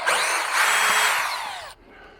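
A power drill whines loudly as it reverses a screw out of wood, a continuous rising and falling motor sound lasting under two seconds before cutting off abruptly, with no talk.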